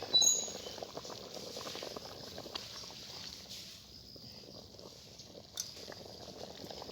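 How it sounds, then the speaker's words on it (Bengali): Egg biryani curry broth bubbles steadily in a pot, a soft continuous simmering and popping texture, fairly faint, with an occasional clink of a utensil. "ঝোলটা ফুটে উঠেছে"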